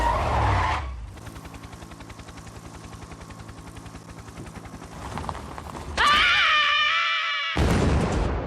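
A cartoon high-speed car getaway in an animated comedy: a steady rhythmic engine drone runs underneath, then tires screech loudly for a couple of seconds, with a toddler screaming in the back seat.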